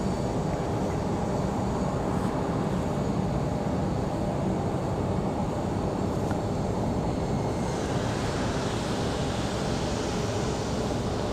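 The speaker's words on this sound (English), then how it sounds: "Got a pushback of Frontier below us now" Steady airport ramp noise at Raleigh-Durham International as a Frontier airliner is pushed back from the gate, a continuous broadband jet engine roar that stays loud and unbroken throughout, with no talk.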